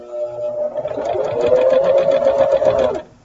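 A sewing machine stitches a quilt block in one continuous run of rapid, even mechanical whirring, close and loud, winding down and stopping abruptly at the end.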